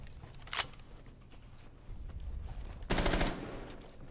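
Short bursts of rapid gunfire in Rainbow Six Siege, one quick volley then a longer, louder burst, over a low background rumble.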